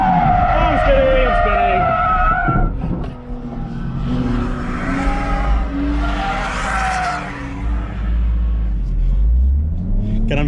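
Car skidding and spinning out at a track day at Lime Rock, with rough tire squeal and engine rumble throughout, loud and close, while a person talks over it.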